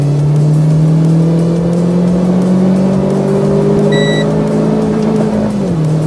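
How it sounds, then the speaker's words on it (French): Renault small sports car revving hard with the engine note climbing steadily, loud and close, with a brief high electronic shift-light warning beep near the top of the revs. "ce que vous avez entendu, c'est la shift light, la lumière qui vous avertit quand c'est qu'il faut passer le rapport"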